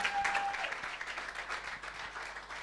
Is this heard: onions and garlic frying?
no